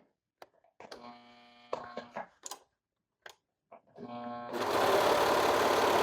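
A serger sewing machine stitches along a fabric edge for a king-size pillowcase cuff, with short bursts of mechanical whirring and clicks early on, then a steady loud running stretch near the end.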